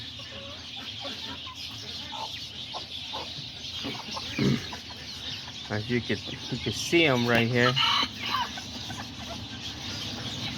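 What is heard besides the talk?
chickens clucking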